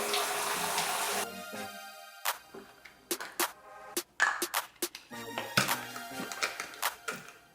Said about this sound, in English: Okay, so we're going to test this water